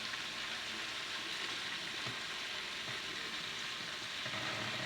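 Bacon sizzling and frying in a pan, a continuous crackling hiss at steady volume with no voices.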